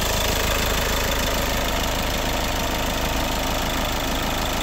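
Diesel engine of a 2015 Hyundai Verna Fluidic SO idling steadily, a close, continuous low rumble with even knocking pulses and no talk.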